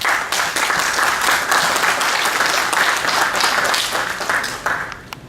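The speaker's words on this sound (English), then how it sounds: "we should give them a warm round of applause" Sustained applause from a sizable audience after a keynote speech, dense clapping filling the whole stretch before tapering slightly at the end.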